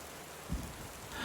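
Steady rain falls on Lundy Island, a soft constant patter with a couple of brief low thumps or gusts partway through and near the end, no voices.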